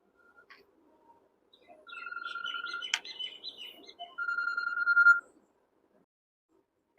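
A mobile phone rings with an incoming call, its electronic ringtone playing a bright melody for about three seconds at moderate volume in a quiet room before it stops.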